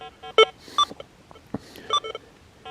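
A Minelab Deus 2 metal detector sounds short electronic target tones over a non-ferrous target, with several brief beeps and chirps in an irregular pattern, moderately loud against a quiet background.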